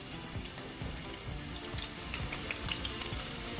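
Shallots and red onions frying in a pan over medium-low heat, giving a soft, steady, close sizzle with faint crackles throughout and no talking.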